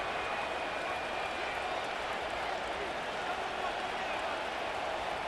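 A stadium crowd in the Madden NFL 25 video game, Chiefs at Broncos, gives off a faint, steady wash of distant cheering and murmur that holds level throughout.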